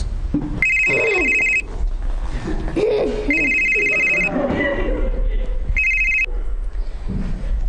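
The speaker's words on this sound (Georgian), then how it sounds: "ჩემი ტელეფონის ხმა იყო, ხო?" A mobile phone rings in an office meeting scene from a Georgian TV comedy series, its electronic ringtone sounding in three separate bursts over people talking nearby.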